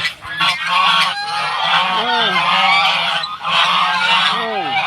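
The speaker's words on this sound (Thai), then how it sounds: "มาดูห่านครับลูกชายดูห่านครับผม" Several geese honk repeatedly and loudly at close range, their calls overlapping in a noisy, continuous chorus.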